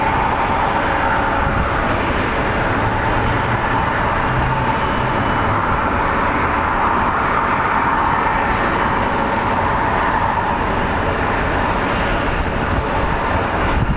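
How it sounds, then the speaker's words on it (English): A SkyWest Embraer 175 regional jet sits at the end of a runway at Phoenix Sky Harbor International Airport, its engines making a loud, continuous broadband roar that holds steady with no pauses. "our SkyWest 4815 departing to Yuma is operated by an Embraer 175 that has finally arrived on the end of the runway"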